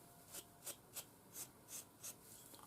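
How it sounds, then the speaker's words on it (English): Wire wool rubs a burr off the full tang of a knife in six quick, evenly spaced scratchy strokes, close and fairly quiet with no speech. "I'll take some wire wool"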